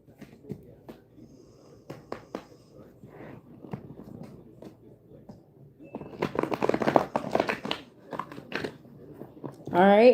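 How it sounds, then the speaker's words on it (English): Oracle cards are shuffled in quick riffling bursts, soft at first and then louder and denser, with occasional light taps. "now let's give it another shuffle here."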